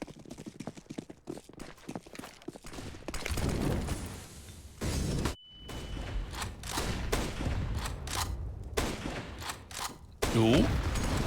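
Grenades are thrown during a Counter-Strike match at IEM Katowice 2021, with clattering bounces, pops and bursts amid gunfire and footsteps, under fast commentary talk.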